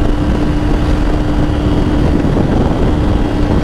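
A loud, steady engine drones without a break at close range, a constant tone riding over a heavy low rumble as the machine labours on a steep uphill pull. No voices cut through the noise.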